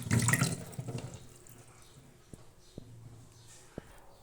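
Tomatoes and potatoes rinsed under a running kitchen tap: a brief rush of water at the start that quickly dies away, leaving a quiet room with a few faint clicks.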